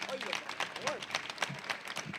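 Soft audience applause for a historian at a public interview event in Valparaíso, with scattered claps heard under people talking.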